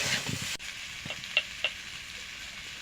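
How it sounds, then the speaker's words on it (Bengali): Fried potatoes sautéed with spice paste in a pan, a steady close sizzle broken by a few short stirring scrapes, with no one talking. "ভেজে রাখা আলুটা দিয়ে আমি আর একটু কষিয়ে নেব"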